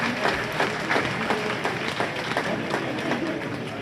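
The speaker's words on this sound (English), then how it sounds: "let's give these bowlers a great round of applause" Audience applause for young bowlers at a junior bowling tournament, steady dense clapping throughout with some crowd noise mixed in.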